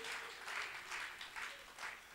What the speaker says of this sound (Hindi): तालियां बजाओ सब यहाँ बस्ती